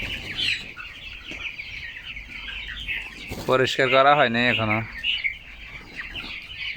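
Broiler chickens on a poultry farm cluck and cackle in a loud, close burst midway through, over a constant murmur of the flock. Someone speaks briefly.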